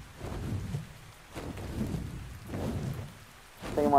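Rain falls with low rolling thunder in the game Ark Ascended, a steady hiss with a few rumbling swells over a few seconds, ending in a brief louder crackle.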